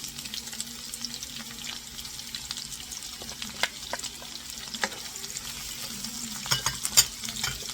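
Onions frying in a hot pan for Filipino mung bean soup, a constant close sizzle broken by scattered stirring taps and scrapes, no voices.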